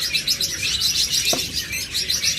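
Pet lovebirds, budgerigars and cockatiels chirp in quick, overlapping bursts, a busy high twittering that carries on without pause, close by and fairly loud.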